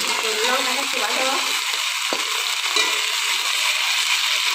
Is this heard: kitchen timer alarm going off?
no